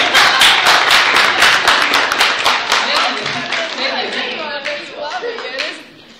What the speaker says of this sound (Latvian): aplausi Megijai